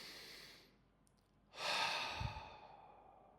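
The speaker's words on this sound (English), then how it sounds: "let's take a deep breath here" One slow, deep breath, a soft inhale followed by a fuller, louder sighing exhale, close and quiet with no talking.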